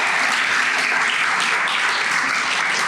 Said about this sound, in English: let's one more round of applause for all the speakers